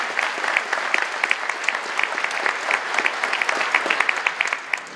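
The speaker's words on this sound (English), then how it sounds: "Yes, you can clap." New United States citizens and guests at a naturalization ceremony applauding: sustained, even clapping from a sizable crowd, moderately loud and continuous with individual claps popping through.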